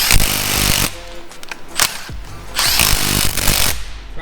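An impact-style power tool torques down bolts on a 500cc 4x4 Power Wheels ride-on, firing in loud, close bursts of rapid hammering separated by short pauses.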